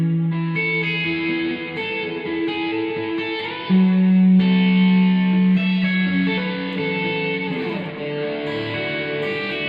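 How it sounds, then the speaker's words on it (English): Chord embellishments played with a heavy reverb effect on an electric instrument, sustained ringing tones that shift between chords and wash into a long, dense tail, with no talking. "I put some reverb on there. It's kind of a lot"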